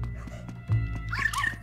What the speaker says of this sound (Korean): 멍멍이가 얘기한다.